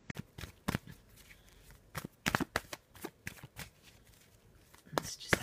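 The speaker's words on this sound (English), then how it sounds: "And let's have a little shuffle." A Faulkner Tarot deck being shuffled by hand, giving close, crisp bursts of riffling and slapping card sounds in an uneven rhythm, with short pauses between the flurries.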